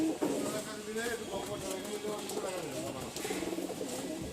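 Pigeons coo in a small loft cage, a green-tinted pet breed held for sale, the soft low calls repeating under steady nearby talk.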